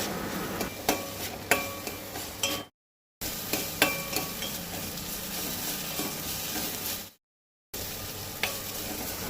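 Washed small prawns fry in hot oil for a Goan prawn dish, a dense steady sizzle broken by clattering stirs and taps of a spoon against the pan, with two brief silent gaps.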